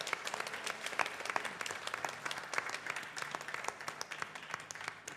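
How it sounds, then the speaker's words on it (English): Audience applause at a Shrimad Bhagavat Katha gathering, a dense steady crowd clapping that keeps going for several seconds, fairly distant and even, with no talk over it. "Let's give a big round of applause."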